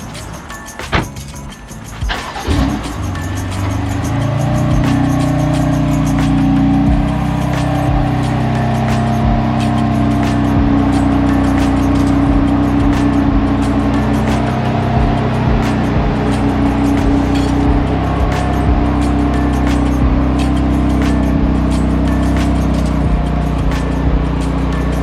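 BMW M4 convertible driving with the top down, a steady engine drone and road and wind rumble running continuously after a brief burst at the start, close and fairly loud with no talking.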